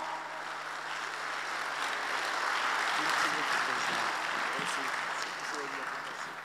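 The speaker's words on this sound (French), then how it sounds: "pendant qu'il arrive, on acclame le Seigneur pour encourager le serviteur de Dieu" A church congregation claps and cheers in praise, a dense sustained wave of applause that swells in the middle and eases toward the end, with voices mixed into the crowd noise.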